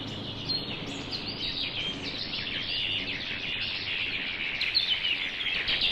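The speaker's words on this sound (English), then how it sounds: "So the birds just sound like they're digitized noise" Bird chirps processed through an OTO Machines BIM effect, rendered as harsh, crunchy digital noise, a continuous gritty high-pitched twittering over a hissy background.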